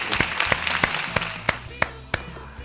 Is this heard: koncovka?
no